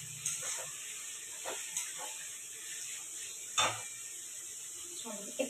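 Food fries in a pan over a home kitchen stove with a steady, bright sizzle and hiss, broken by occasional light clinks of a utensil against the pan.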